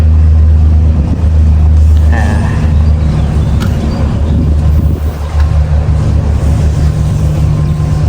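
A Suzuki outboard motor boat drones steadily at close range in Greenland, its low hum carrying over wind buffeting the microphone and water noise.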